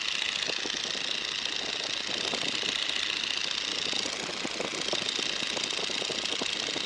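Light aircraft engine pulled back to about 1,500 RPM, a steady loud buzzing drone with a fast, even propeller chatter that continues without letup.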